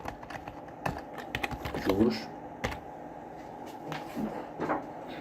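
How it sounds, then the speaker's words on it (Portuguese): Typing on a computer keyboard while entering variables for a simple-interest program, with scattered close key clicks in short bursts and pauses, and a quiet voice in the background. "Então eu vou digitar as minhas variáveis."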